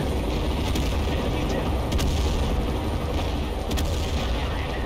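Dense, constant roar of airstrike explosions and gunfire in a war video game, with a few sharp impacts cutting through the steady rumble; no clear speech over it.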